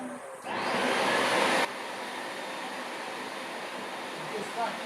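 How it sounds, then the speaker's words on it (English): A vacuum cleaner hoovers a floor during adhesive and floor-preparation work, its steady broadband whoosh rising sharply for about a second, then dropping to a lower constant hum that continues to the end. "Just vacuum up any last bit on the floors."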